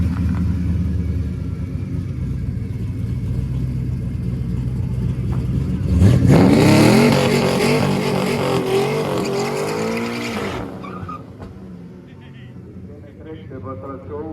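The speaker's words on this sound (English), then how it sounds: "That guy's a weak ass burnout." A 1956 Chevy does a burnout on a race track, first idling under an announcer's voice, then a loud rising engine roar with tire squeal for about four seconds before settling back to a rumble.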